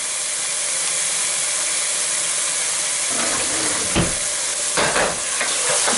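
Egg pulao masala with tomatoes being stirred in a pan: a steady sizzle and steam hiss throughout, with a few louder scraping stirs toward the end, no voices.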